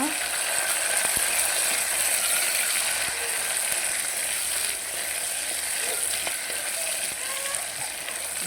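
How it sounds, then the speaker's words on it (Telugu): Eggplant pieces frying in hot oil, a dense, continuous crackling sizzle with a few faint clicks, steady and close for about eight seconds with no talking. "వంకాయ ముక్కలు అనేవి ఆయిల్లో ఫ్రై అవ్వాలన్నమాట"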